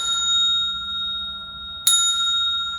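A bell rings with a sustained metallic tone, then is struck again sharply, the bright ring lingering and fading.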